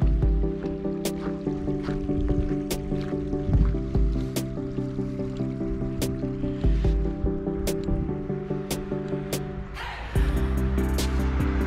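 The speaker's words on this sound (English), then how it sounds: "Creek." Creek water flows and trickles with steady dripping and gurgling, near and moderately soft, in a snowy North Carolina setting, with a louder rush of water coming in near the end.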